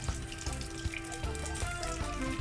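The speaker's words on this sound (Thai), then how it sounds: "เอามาจุ่มลงไปในตัวเนื้อแป้งเหลวนะคะ แล้วก็เอาลงกระทะทอดได้เลยค่ะ" Steady sizzling and bubbling of batter-dipped fish frying in hot oil for fish and chips, continuous and close, with no talking.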